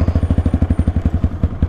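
A Honda XRE motorcycle rattles over a potholed road, its engine thumping in a fast, regular pulse close by with clattering jolts and no talk over it.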